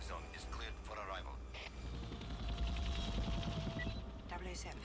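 A helicopter in the video game 007 Everything or Nothing, its rotor thumping in a rapid, steady chop beneath a low engine drone, with brief voice-like sounds near the start.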